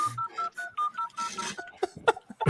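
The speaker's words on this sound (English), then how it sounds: "Is that a rotary dial phone?" A rotary dial telephone being dialed, with a series of short clicking pulses and tonal blips coming in quick rhythmic bursts, fairly close and clear, with no one talking.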